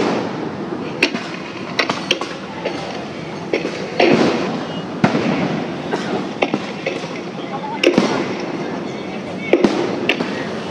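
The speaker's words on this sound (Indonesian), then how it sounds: "masih terus menembakkan gas air mata ke arah buruh dan mahasiswa" Security forces firing tear gas at protesting workers and students: sharp, irregular bangs and pops ring out over a noisy outdoor crowd, with voices talking throughout.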